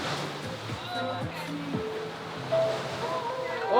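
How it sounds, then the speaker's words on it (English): Ocean waves roll in on a shore as a steady washing surf with wind buffeting the microphone, while people talk over it throughout. "I said we got waves coming in."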